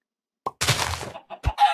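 Chicken clucks from Minecraft, a quick burst of short close squawks with a brief pause and then another cluck, loud and alone with no talk.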